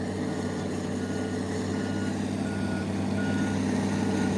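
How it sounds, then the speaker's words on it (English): Landfill compactor working at a dump site, its steady low diesel engine drone running under a repeating high reversing beep that sounds a few times, loud and close. "Oh, Antonio's giving his compactor a fit today, boy"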